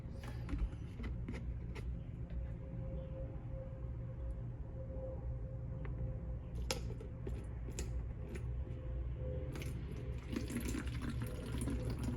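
Windshield washer fluid or distilled water pours steadily into a measuring container marked in milliliters as part of mixing an airbrush thinner. The stream is a constant near trickle with faint clinks over it.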